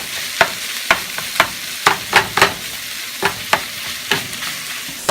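Tofu crumbled and stirred in a frying pan for breakfast tacos, with a steady sizzle under a run of sharp scraping, chopping strokes from a utensil against the pan, close and fairly loud, no talking.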